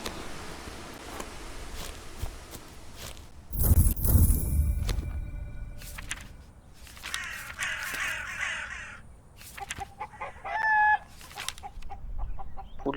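Chickens in the video game We Harvest Shadows cluck and squawk in short bursts over a quiet ambient background, fairly faint with a few louder calls.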